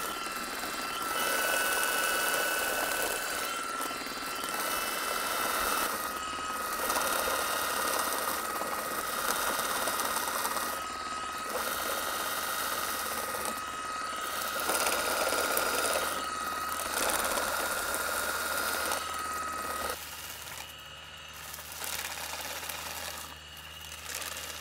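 Campagnola double rotary olive harvester shaker running outdoors, a steady high whirring buzz with rhythmic mechanical clatter that pulses regularly for the whole stretch, moderately faint and unaccompanied by speech.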